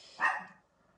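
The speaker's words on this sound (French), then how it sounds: "J'entends le chien." A single short dog bark rings out faintly at a distance in a quiet indoor room, then fades into near silence.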